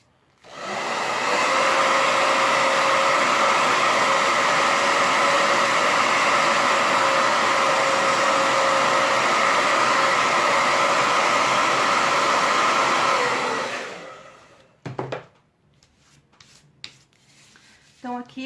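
A hair dryer blows steadily and loudly for about thirteen seconds, drying paint on a round wooden pallet piece, then cuts off, followed by a few handling knocks.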